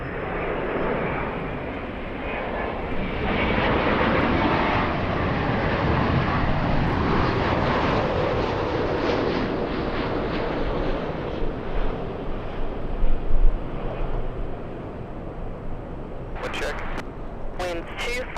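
An airliner touches down at LAX in gusty wind, a loud, sustained jet engine roar swelling and fading with wind buffeting the microphone, ending in a few sharp bursts.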